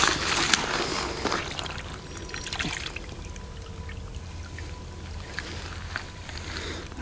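A freshly found whole arrowhead relic is washed off in water, with splashing, trickling and handling noises that are loudest at the start and fade to a softer wash throughout.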